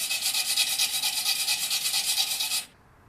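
A stiff wire brush scrubs rapidly back and forth across a fresh flux-core weld bead made with a Titanium Flux 125 welder, a steady, loud, raspy rhythm close to the microphone that stops abruptly, leaving near silence.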